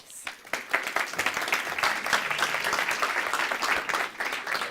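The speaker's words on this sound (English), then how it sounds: "Give her an applause, please." Audience applause at an event at Bromma Stockholm Airport, a crowd clapping steadily after a brief quieter start, close and sustained, with a few voices underneath.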